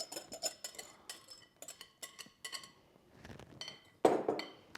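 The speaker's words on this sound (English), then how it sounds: "I'm just mixing all of that wet ingredients onto the dry." Wet ingredients are stirred into dry ones for spelt orange muffin batter in a bowl, producing irregular close light clinks and taps of utensil against the bowl, with a louder clatter near the end and no voices.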